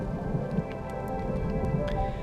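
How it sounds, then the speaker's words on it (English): Thunder rolls at an African safari campsite during unseasonal late-September weather, a low rumbling over steady rain pattering nearby with no voices. "Listen to the thunder."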